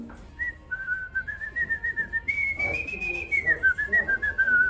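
A person whistles a lilting melody close to the microphone, the high pure tone sliding and wavering through a continuous run of notes with soft breathy pulses beneath.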